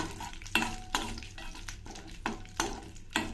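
Ingredients for boondi payasam fry in a pan with a soft steady sizzle, broken by several scraping stirs of a spoon against the pan, close and fairly quiet.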